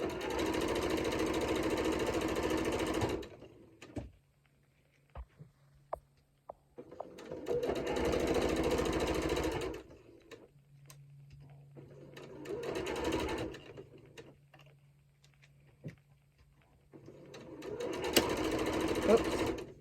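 A sewing machine stitches a decorative envelope cushion in several bursts of a few seconds each, loud rapid mechanical whirring separated by quiet pauses with low motor hum and small clicks.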